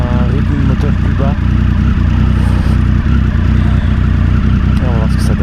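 Triumph Sprint ST 1000 sport-touring motorcycle engine while riding, a loud low-pitched thrum with steady rapid pulses and rushing wind, close and continuous, with a voice talking over it.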